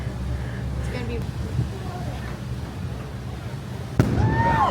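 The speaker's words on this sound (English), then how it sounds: "They're about to do a cannon fire." A single sharp cannon blast fires from a river boat lunch cruise, booming once near the end over engine rumble and crowd chatter, followed by people cheering.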